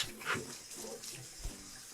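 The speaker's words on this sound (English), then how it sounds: "get water running through the carcass in the middle" Tap water runs steadily over a raw turkey as it is rinsed, a soft continuous splashing with a brief brighter spatter near the start.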